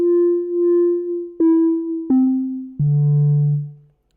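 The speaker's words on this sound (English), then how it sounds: "So this is basically what a sine wave sounds like." A synthesizer oscillator sounds a plain sine wave as a clean, pure steady tone, stepping down in pitch through four sustained notes before fading out, loud and alone.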